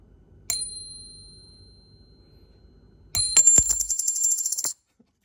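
A silver coin balanced on a fingertip is tapped with metal, giving a clear bell-like ping that rings and fades, then a second, louder strike with a sustained shimmering ring that cuts off abruptly.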